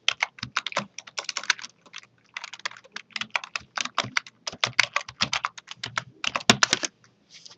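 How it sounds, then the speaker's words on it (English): Fast typing on a computer keyboard, close and crisp: dense irregular runs of key clicks with brief pauses between bursts, no voices over it. "you can type in what you want it to say"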